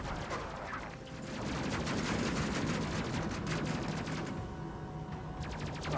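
Rapid bursts of turret gunfire from the space combat game Space Crew, a dense rattling fusillade that runs almost the whole time, with a brief lull near the start and another late on.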